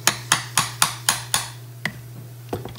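Brass punch tapped with a hammer to drive a part out of a Hi-Point 1095/4095/4595 carbine, about ten sharp metallic taps, evenly spaced at first and then slower, close and alone over a faint steady hum.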